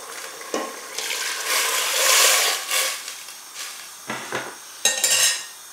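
Water poured into a pot of boiling broth on a home stove, a hissing rush that swells and fades, then clattering of a utensil against the pot and a few sharp sizzling splashes, close and without talk.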